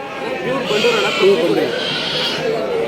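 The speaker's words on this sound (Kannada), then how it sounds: "ಕಪ್ನಿ ಕುರಿ" A five-month-old Bandur sheep lamb bleats close by in a few wavering calls, loud and near, with voices around it.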